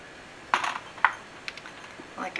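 Chopped onion goes into a cooking pot for pork chop soup with a few sharp metallic clinks and pings against the pot, spaced about half a second apart, over a quiet background.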